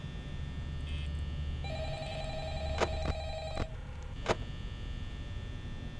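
An electronic telephone ring in a video game sounds over a constant mains-like hum, with a few sharp clicks and tones scattered through the steady ringing.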